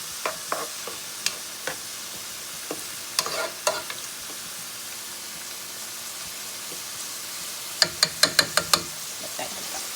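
Potatoes, onions and peppers fry in hot oil with a steady sizzle, broken by scattered spatula scrapes and a quick burst of stirring clinks near the end; no talking.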